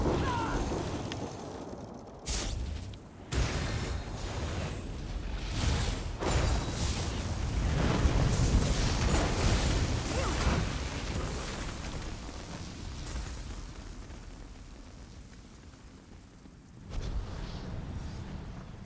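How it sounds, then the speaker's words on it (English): Explosions and magical blasts in The Elder Scrolls Online's Necrom zone, a steady rumbling roar of repeated booms swelling and fading over time, with sharper bursts near the start and end, no voices. "I'm going to start making things explode."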